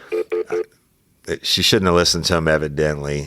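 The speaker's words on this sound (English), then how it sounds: "That's my phone beeping." A phone gives three quick, evenly spaced beeps, followed after a short pause by someone talking.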